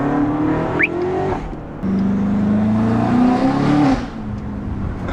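Stock BMW X5M fitted with a Valvetronic valved sport exhaust, heard from inside the cabin as the engine rises and falls in pitch, then drops into overrun off throttle, a loud steady drone with no talking.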